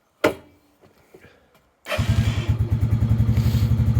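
Lifan King motorcycle engine starting: a sharp click and brief clatter, a pause, then the engine fires and settles into a close, loud, steady chugging idle.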